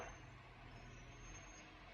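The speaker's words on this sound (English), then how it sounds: "you can hear our garbage truck just pulled up" A garbage truck pulls up outside, heard as a steady low engine rumble with broadband road noise and a faint high whine, continuous and fairly distant.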